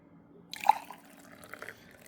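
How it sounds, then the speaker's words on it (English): Hot water poured into a tea cup for a third steep of Bangdong white tea, a short splashing trickle that starts abruptly, peaks briefly and then fades into faint dribbles, quiet and close with no talking. "I'll just show you when I pour it into this cup"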